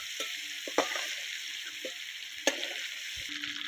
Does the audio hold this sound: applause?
no